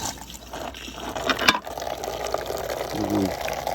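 Intex SX sand filter pump for an above-ground pool running in rinse mode, a steady watery rushing and gurgling hum, moderately loud and close, with a brief knock midway.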